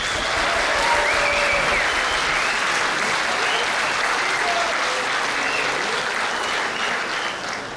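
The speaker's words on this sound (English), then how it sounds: "let's give a big round of applause for the Sun City Roseville Harmonicoots" A crowd applauds steadily at a harmonica group's jamboree show in Sun City Roseville, sustained clapping from a large audience with a few whoops.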